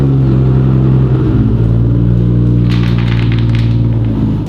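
A Nissan Skyline GT-R engine fires up after nearly two years since its last oil change and settles into a loud, steady idle, with deep rumbling harmonics throughout and a brief crackling burst partway through.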